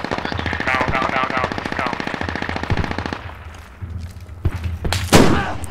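Bursts of machine gun fire in the military shooter game Squad during urban combat in Fallujah, rapid loud rattling volleys, then a pause and sharp single shots and impacts, with someone talking excitedly over the gunfire.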